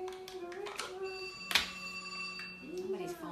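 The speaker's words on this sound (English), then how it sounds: "Somebody's phone is ringing." A telephone rings during a live cooking show in a kitchen, with repeated bright electronic ringtone bursts sounding close and clear while a voice talks nearby.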